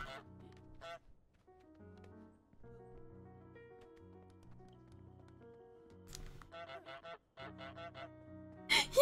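Goose honks from Untitled Goose Game ring out as short cartoonish blasts in quick bursts near the end, over gentle piano background music, with no talking.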